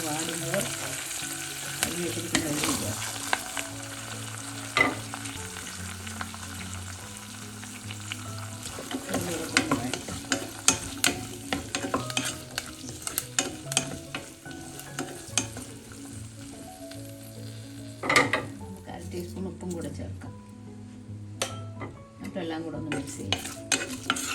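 Prawn thoran, Kerala style with tamarind, fries and gets stirred in a pan: a low continuous sizzle with frequent spatula scrapes and clinks against the metal, close and moderately quiet, no talking.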